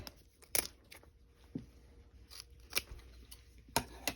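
Scissors snipping the legs off a harvested duck being prepared as a decoy: a few quiet, sharp crunching cuts spaced irregularly over soft handling noise, close but faint.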